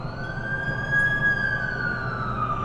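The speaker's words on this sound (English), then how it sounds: "That's the ambulance I called." An ambulance siren in The Amazing Spider-Man 2 video game holds a steady, fairly loud electronic wail with a slight swell over a low rumble of traffic.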